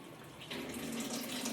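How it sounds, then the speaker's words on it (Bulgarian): Cold water runs steadily from a kitchen tap, a continuous close splashing stream that begins abruptly and holds on alone. "Пускам студената вода"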